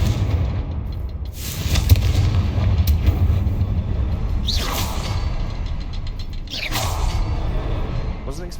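Repeated blasting spell explosions in the Hogwarts Legacy video game, several whooshing bursts with rumbling low booms spread across the clip over continuous game ambience and effects.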